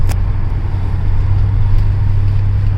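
Inside a 1968 Ford Thunderbird cruising at about 40 mph on back roads, a steady low rumble of engine and road noise fills the cabin, loud and even, with no talking.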